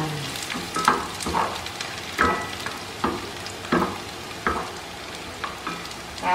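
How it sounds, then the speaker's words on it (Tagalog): Banana heart tossed with garlic in a hot pan, a close sizzle punctuated by regular scraping stirs roughly every second, steady and without any talking. "Gigisa na natin sa bawang."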